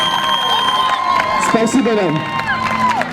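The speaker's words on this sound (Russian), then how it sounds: "Ваши аплодисменты друг другу." Campers at a camp bonfire cheer and applaud each other, a lively crowd roar with whoops and clapping mixed under a voice speaking briefly.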